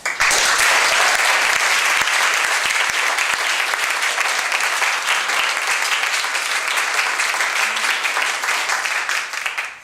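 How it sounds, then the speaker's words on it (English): A ceremony audience gives a new Eagle Scout a round of applause at his court of honor, dense steady clapping from a full room that holds for nearly ten seconds before tapering off at the end. "Let's give our new Eagle Scout one more round of applause."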